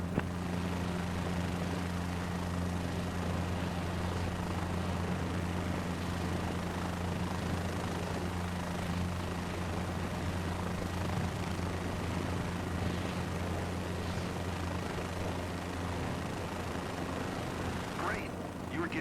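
Helicopter hovering steadily at low altitude in a flight simulator game, a continuous engine and rotor drone with a constant hum that stays level and unbroken throughout, with faint talk under it.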